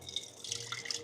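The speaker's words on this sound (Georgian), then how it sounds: "გავრეცხე ჯინჯერი" Ginger is rinsed under a running tap, a soft, faint trickle and patter of water with a few small drips, heard alone with no talking.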